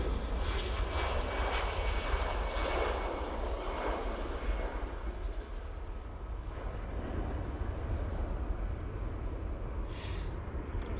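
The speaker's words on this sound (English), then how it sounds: "Get this EasyJet going out. Going off to Paris Charles de Gaulle." An EasyJet plane departs Manchester Airport for Paris Charles de Gaulle, a continuous distant engine roar with low rumble that fades slightly through the middle and then holds steady.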